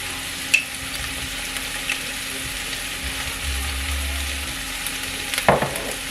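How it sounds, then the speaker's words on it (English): Ground beef fries in a pan while it is stirred, a constant soft sizzle with a few sharp scraping knocks of the utensil, one near the start and a cluster near the end. "Go ahead and finish cooking this ground beef"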